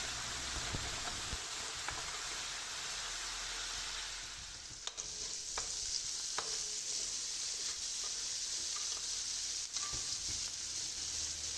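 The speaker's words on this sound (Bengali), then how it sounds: "আবার ভালোভাবে ভাজা ভাজা করব" Spice paste frying in a pan while being stirred before fish is added, a faint steady sizzle with scattered scraping clicks from the utensil, heard alone without voices.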